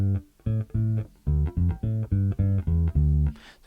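Deep, round bass guitar notes thump out a repeating groove from a song, some notes doubled, closing with a short breathy string rasp.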